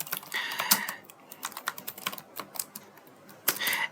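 Python code is typed on a computer keyboard in a close, continuous patter of quick key clicks, uneven in pace with a few louder strikes, no voice over it.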